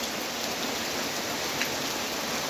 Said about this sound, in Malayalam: ഈ മഴ എനിക്കിപ്പോൾ ഇഷ്ടമാണ്